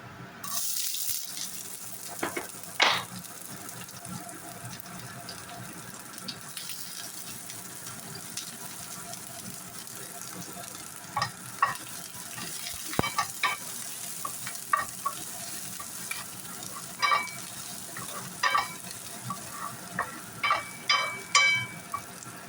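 Garlic, then onion, sautéing in a pan for an Ilocano-style banana blossom dish, with a steady soft sizzle under repeated scraping and stirring clinks that grow busier toward the end.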